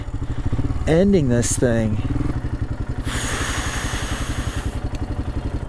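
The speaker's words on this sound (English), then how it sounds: "I should not be riding this motorcycle right now" A Royal Enfield Himalayan motorcycle runs with a steady thumping single-cylinder engine beat, loud and close throughout, while a rider speaks briefly over it and a burst of wind hiss comes in midway.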